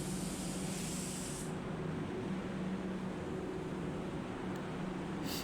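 A spray gun sprays base coat paint onto a car bonnet in a steady, close, continuous hiss that cuts off briefly and resumes.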